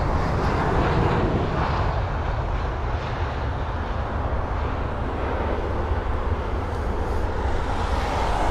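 An Airbus A318 at London Heathrow, a loud broad engine roar sustained throughout, steady and close with no voices.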